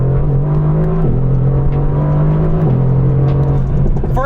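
A Mercedes AMG GT R on its stock exhaust revs hard, with a loud, close engine note that climbs, drops and climbs again, and faint crackles popping over the top.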